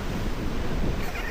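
Ocean waves wash against the shore at Popeye Village, Malta, a continuous broadband surf roar mixed with wind buffeting the microphone, with no talk.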